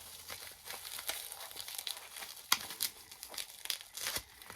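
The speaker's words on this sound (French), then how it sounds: "je déballe ma colle" Glue being unpacked from its packaging, with crisp crinkling and tearing of plastic wrap in quick irregular bursts, close and fairly quiet, no talking.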